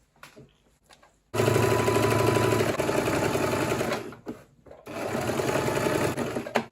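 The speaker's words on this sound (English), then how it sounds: "So I will be sewing now from there." A sewing machine stitching the side seam of a kaftan runs in two loud, close bursts of fast whirring, with a short pause between them.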